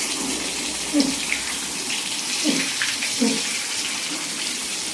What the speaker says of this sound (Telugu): ఇప్పుడు రెండో వైపు కూడా ఇదే విధంగా ఫ్రై చేసుకోవాలండి